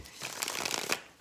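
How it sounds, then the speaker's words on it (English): Tarot cards are shuffled once up close, a quick papery riffle lasting about a second in an otherwise quiet room. "I'm going to do one more shuffle."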